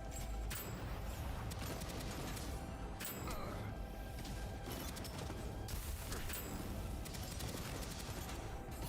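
Rapid bursts of assault rifle fire in a sci-fi shooter game against robots, dense repeated shots with mechanical clatter running almost continuously at close range.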